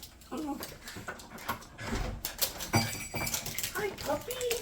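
A puppy whimpers and yips in short, high bursts at close range, mixed in with people greeting each other and chatting in a home.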